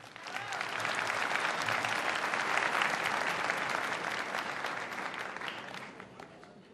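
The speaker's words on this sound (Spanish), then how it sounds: "Un fuerte aplauso para ella." A large audience gives a warm, sustained round of applause at a recyclers' day event in Ecuador, the clapping swelling and then slowly easing off toward the end.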